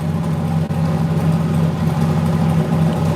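A car engine idles steadily through a cold start, a smooth low rumble holding at an even pitch and level for a few seconds, near and alone with no talk.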